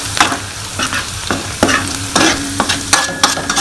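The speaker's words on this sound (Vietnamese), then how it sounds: "Rồi chúng ta xào đến cũng hơi cho xả nó hơi mềm nhẹ chút cho nó thơm" Razor clams stir-fried in a pan with lemongrass, chili, shallots and garlic: a steady, loud sizzle with repeated scraping and clinking of the stirring utensil against the pan, close up and with no talking.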